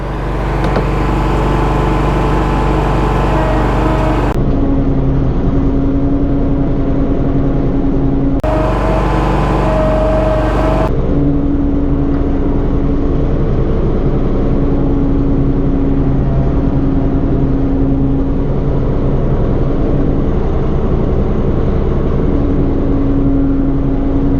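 A 2019 John Deere Z7 Ztrak zero-turn mower engine runs loud and steady as it drives up to speed, a continuous close motor drone with a brief dip and return partway through.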